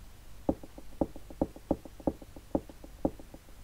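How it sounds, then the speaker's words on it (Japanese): Knocking in the horror video game Clock Tower: a steady run of muffled knocks at roughly half-second intervals, with softer taps in between, moderately loud and without speech. "これは何？ノックされたみたいだね。"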